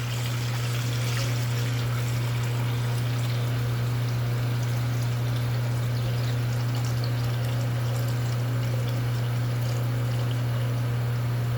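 Water pours steadily into a container holding a small plastic cup, a continuous trickling stream over a strong, steady low electrical hum, close and unbroken for the whole stretch.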